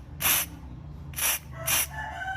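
Carburetor cleaner sprayed into a motorcycle carburetor in three short hissing bursts, the second and third close together, heard near and alone.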